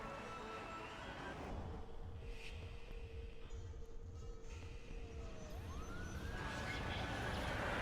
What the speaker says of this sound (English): It's like a air raid siren.